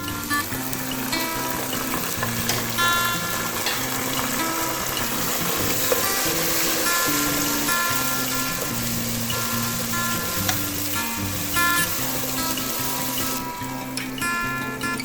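Steady sizzling of chopped tomato, ginger, garlic and green chilies frying in a hot pan, continuous and close, with soft background music playing throughout.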